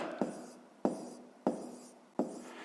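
Four strokes of handwriting while working a 5th-grade math exercise, each a sharp scratch of pen or chalk followed by a fading rasp, evenly spaced and close, with no talking.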